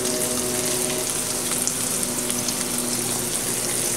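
Bacon fat sizzles in a hot pan on a switched-off stove, a steady, dense, close hiss with no talking.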